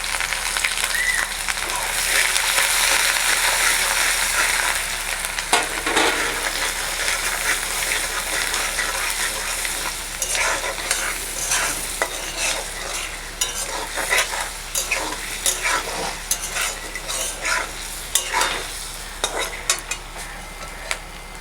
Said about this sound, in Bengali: আর দিয়ে দিচ্ছি আদা বাটা 1 টিস্পুন, জিরে গুঁড়ো 1 টিস্পুন।